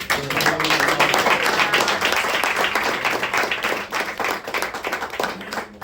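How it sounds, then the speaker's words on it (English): Applause at a ceremony for a Colonel honouring veterans: a crowd claps steadily and fairly loudly for about six seconds, with dense overlapping claps and a faint murmur of voices underneath. "one more round of applause for Colonel."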